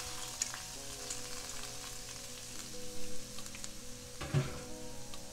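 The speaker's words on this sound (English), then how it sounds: "So I'm gonna take my jackfruit and add it right to that nice heated skillet." Jackfruit sizzling in grapeseed oil in a heated skillet, a steady soft frying crackle with a few light pops and clinks, close and alone without talk.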